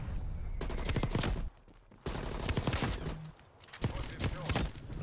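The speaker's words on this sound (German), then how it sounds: "Also die Waffensounds sind geil, Alter. Von der AK-74U." AK-74U firing in the Call of Duty Black Ops Cold War video game: rapid automatic bursts in several separate strings, loud and close, with short silent pauses between them.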